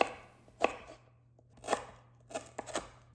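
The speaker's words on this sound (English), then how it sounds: "Bruise the lemongrass with a cleaver and slice thinly." A cleaver chopping lemongrass on a cutting board, several sharp, close knocks spaced about a second apart, with a quick double strike near the end and a low hum beneath.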